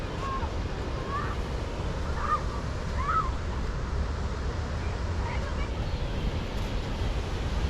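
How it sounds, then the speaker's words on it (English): Europe's widest waterfall at Kuldiga, Latvia, heard as a constant broad rushing roar close by, with a few faint honking bird calls over it. "And here is a waterfall, the widest waterfall in Europe."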